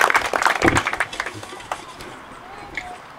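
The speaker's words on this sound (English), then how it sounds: "join me in giving them a rousing applause for this accomplishment" Applause from a crowd at an outdoor playground dedication, a burst of clapping that fades over a few seconds into quieter murmuring.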